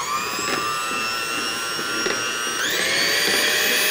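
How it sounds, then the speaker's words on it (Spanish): An electric mixer whips egg whites to stiff peaks, a steady high motor whine with sharp harmonic tones that jumps up in pitch near the end as the speed increases, with no voices. "Ahora vamos a batir bien bien las claras para hacerlo punto nieve."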